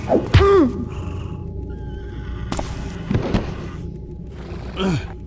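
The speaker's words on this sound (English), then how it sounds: "Nice, we have a horse here." A horse in the video game The Black Parade neighs in several separate whinnies with soft breathy snorts between them, close and fairly loud over a quiet background.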